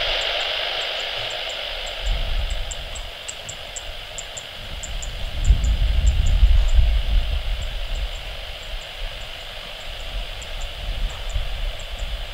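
An aircraft taking off from runway 31 at an airport, its engine roar rising and swelling loudly midway then easing, heard from a distance with a steady rushing background and faint repeated chirping.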